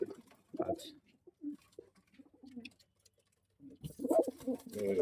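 Black highflyer pigeons coo in a loft in soft, intermittent bursts separated by quiet gaps, with a louder cluster near the end.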